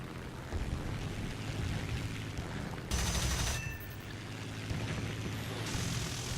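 Rapid machine gun bursts from an I-16 fighter in War Thunder, loud and close over a steady droning engine roar, with one sharp burst standing out in the middle.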